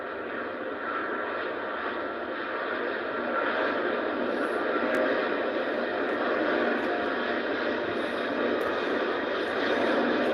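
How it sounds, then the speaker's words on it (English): A Boeing 777 takes off at Heathrow, bound for Los Angeles. Its steady, fairly distant jet roar swells slightly and continues without a break. "So it's a Boeing 777, flight AA 135, heading Heathrow to Los Angeles."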